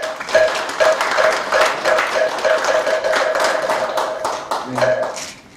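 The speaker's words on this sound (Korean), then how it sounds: "모두 큰 박수 부탁드리겠습니다" An audience at a Korean Buddhist college graduation ceremony claps in a dense, steady round of applause that fades toward the end, loud in a large hall.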